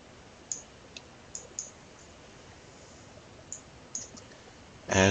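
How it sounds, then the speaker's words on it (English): Computer mouse clicks come in sparse, faint, crisp single clicks and a few quick pairs over quiet room tone, ending in a short louder rustle. "just right click on your picture."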